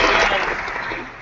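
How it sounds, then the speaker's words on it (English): Participants in an online Rotary meeting give delayed applause, a brief, fairly loud burst of scattered clapping that fades slightly toward the end. "Delayed applause, but that means it was only epic"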